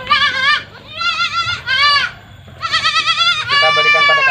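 Young goat kid bleating repeatedly while being bottle-fed milk through a baby bottle teat, several loud, close bleats in quick succession with short pauses between them.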